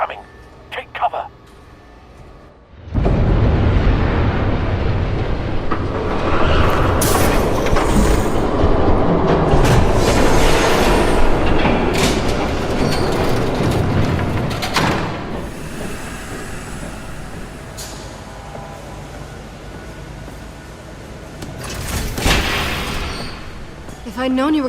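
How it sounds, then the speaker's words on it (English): Train rumbling past in Telltale's Batman game, a sustained heavy roar rising abruptly after a quiet start, filling most of the scene with loud clatter and booms before easing near the end. "There's a train coming."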